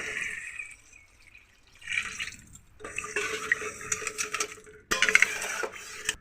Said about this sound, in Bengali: এখানে দিয়ে দেবো জল